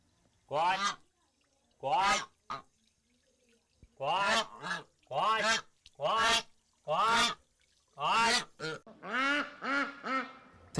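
Geese and ducks honking and quacking on a farm, a series of loud, close calls in bursts with short pauses between, growing denser toward the end.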